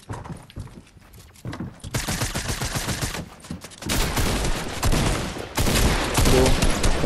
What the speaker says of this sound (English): More people are shooting, I think, from southwest and also 130 east.